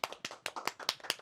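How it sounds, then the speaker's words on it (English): A small studio audience claps for a Tapple game winner, a steady run of about six sharp, evenly spaced claps, close and alone without talk. "Clap for him."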